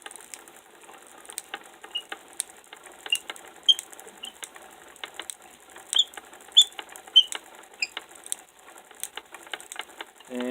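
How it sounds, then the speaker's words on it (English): A hand-cranked electrostatic machine being turned, giving a steady run of light mechanical clicks and ratcheting ticks, close and fairly quiet, continuing throughout. "I will start cranking it."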